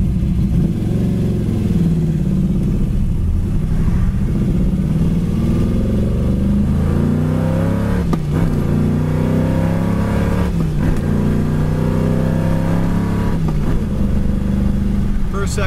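A 1969 Chevy Nova's V8 engine accelerating up through the gears from inside the car, a loud steady drone that rises in pitch, drops at each shift and climbs again.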